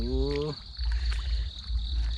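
Frogs call around a rural home at night, a harmonic croak at the start and then steady chirring and croaking with insects underneath, close and fairly loud, with no talk.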